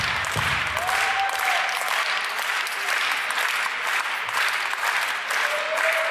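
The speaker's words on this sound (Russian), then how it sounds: "ваш порыв с аплодисментами поддержала практически вся трибуна, которая находится за вами" Audience applause fills an arena at the Russian Open Dance Festival 2024 ballroom competition: dense, steady clapping from a large crowd, continuous and loud throughout, with a faint tone drifting underneath.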